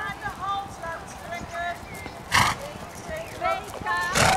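A pony moving through a dressage arena at a competition, with clip-clop hoof sounds and a whinny-like call over steady outdoor background, joined by loud short bursts of noise near the middle and end.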